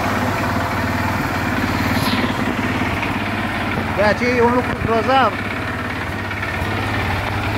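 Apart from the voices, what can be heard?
Dinli 801 350cc ATV engine idling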